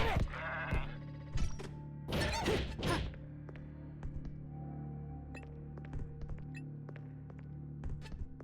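Goats bleat in the video game Zanki Zero, a few loud overlapping cries early on, followed by scattered thuds and whacks over a steady game hum.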